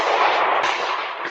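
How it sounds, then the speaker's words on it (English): Gunshots ring out on a street in the early morning, captured by a Ring doorbell camera as a dense burst of sharp cracks blurred by distance and the small microphone. "The sound of gunfire ringing out on the Strip early Sunday morning."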